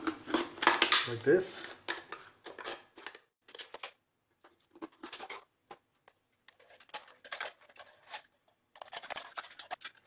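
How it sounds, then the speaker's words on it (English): Metal can being cut with a cutter: a loud scraping, clattering stretch at first, then scattered short metallic snips and clicks with pauses, close by, with a brief spoken phrase. "Now we're gonna use a cutter and we're gonna cut"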